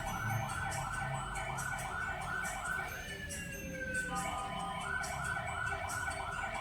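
A fire engine's wailing siren sweeps steadily up and down over constant traffic noise, loud and close, sounding continuously throughout.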